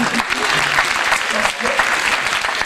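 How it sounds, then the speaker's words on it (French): Steady applause from an audience for a king, a dense wash of clapping that holds for a few seconds without pause. "on applaudit le roi"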